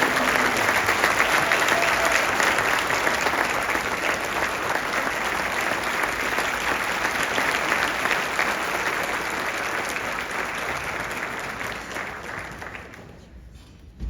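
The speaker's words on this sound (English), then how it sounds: "Please join me again in honoring Colleen Reynolds with a round of applause" A large audience applauds steadily at a King's College physician assistant pinning ceremony honoring Colleen Reynolds. The dense clapping stays loud for about twelve seconds, then thins out and fades away.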